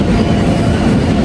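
A train rumbles steadily up close at a station, its wheels grinding and squealing on the rails in a continuous metallic roar.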